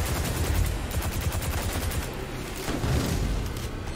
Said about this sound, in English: I don't know how am I firing right now.